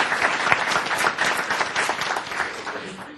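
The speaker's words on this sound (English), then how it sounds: "So a round of applause for our panelists." A crowd claps steadily for the panelists of a discussion on masculinity in America, the applause close and lively throughout with no pause.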